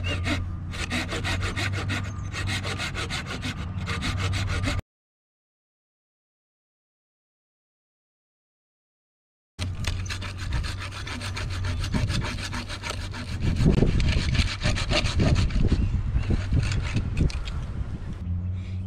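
A hand saw cuts through a dead tree branch near its base outdoors, with loud, rhythmic rasping strokes that break off into a few seconds of silence and then resume, growing heavier toward the end.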